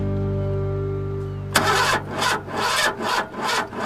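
A car engine with 83,000 miles, suspected of dirt in the fuel line, cranks repeatedly without catching: a steady hum gives way to a sharp click, then rhythmic grinding starter pulses, close and fairly loud.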